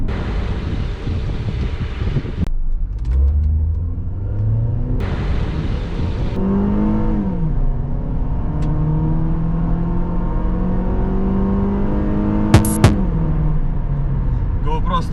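A Mazda 6 with a 2.0 petrol engine and automatic gearbox revving up through rising gears, pitch climbing and dropping with each shift, under steady wind and road noise inside the cabin.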